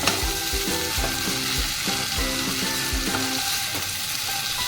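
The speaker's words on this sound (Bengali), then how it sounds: "এই যে কচুরলতিতে রান্না আমার প্রায় হয়ে এসছে" Taro stolons cooking with shrimp sizzle steadily in a pan, a dense continuous fry broken by repeated spatula scrapes and stirring knocks, close and loud with no voices.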